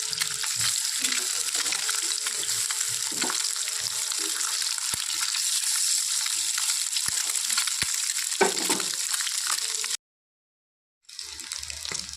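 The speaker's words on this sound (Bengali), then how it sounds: "তেলটা গরম হয়ে গেছে এখন ডিমগুলো দিয়ে দিব তেলের মধ্যে" Oil sizzles and crackles steadily as eggs fry in a pan, with occasional clinks of a utensil before the sound cuts out briefly.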